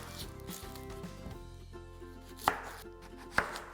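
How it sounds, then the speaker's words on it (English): Half an onion being thinly sliced with a knife for a salad, two sharp knife taps against a board standing out over a steady low background hum. "For the salad, I'm gonna take only half an onion, thinly slice it."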